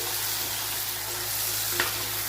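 Spice mix with asafoetida and peanuts sautéing in hot oil for stuffed eggplant curry, a steady close sizzle throughout with a brief sharp click of stirring near the end.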